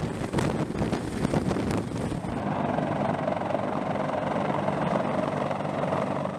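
A Sikorsky CH-53 military helicopter gives a continuous loud rotor roar with rapid thumping blade chop early on, settling into a steady wind-buffeted drone.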